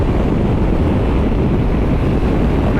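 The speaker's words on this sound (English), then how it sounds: "It's quite windy" Steady, loud wind roar buffets the microphone while riding a 2022 Yamaha Ténéré 700 or MT-10 motorcycle on a gusty day, a continuous low rumbling wash with no pauses and no voices.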